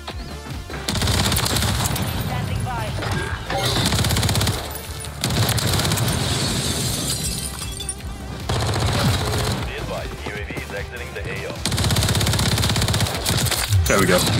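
Rapid bursts of SMG fire from a first-person shooter game, loud sustained automatic volleys broken by brief pauses, with a player talking over the shooting.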